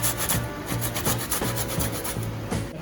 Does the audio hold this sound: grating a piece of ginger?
yes